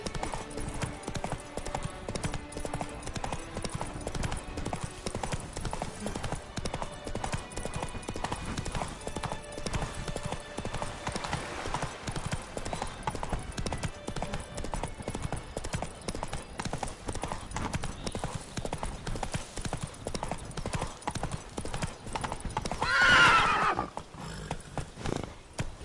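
Horses gallop in a steady clip-clop during a joust in The Witcher 3: Blood and Wine, with lances at speed. Hooves drum continuously under crowd ambience, and a horse whinnies briefly near the end.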